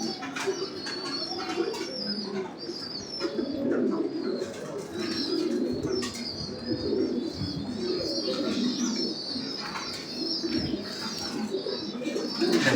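Fancy pigeons of an old pure bloodline coo in soft, repeated throaty calls close by, with light chirps and faint rustling over a steady background murmur.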